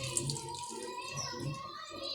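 Rainwater collected overnight being poured out of a red flower pot on a balcony garden, a steady trickling splash running throughout at close range.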